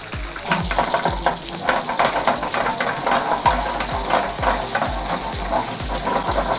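Slices of fish frying in hot oil, a dense, steady sizzle close by with repeated soft stirring and shifting sounds as the pieces are turned.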